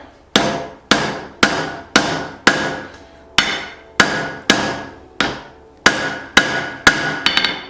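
A hammer forges a small cross peen hammer head on an anvil, delivering about a dozen loud, ringing metallic blows in a steady rhythm, close by and with no talking.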